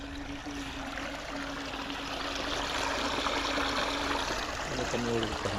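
Water running through a channel in a rice paddy field, a steady broadband rush with a faint rumble underneath, continuous and fairly close throughout.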